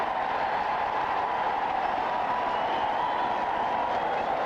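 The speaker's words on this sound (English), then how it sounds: "We have some crowd reaction to an announcement by the PA man." A large American football stadium crowd at a 1986 Cardinals vs. Giants game reacts to a public-address announcement, a dense, continuous murmur and roar of distant voices with no break.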